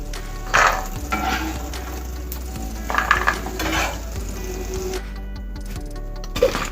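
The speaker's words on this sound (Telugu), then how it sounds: "ఇదే నూనెలో మనం కట్ చేసుకున్న బెండకాయ ముక్కలు వేసుకొని వేయించుకోవాలి" Cut okra pieces frying in oil in a pan, a continuous close sizzle with occasional clatter and stirring bursts, steady in level and without speech.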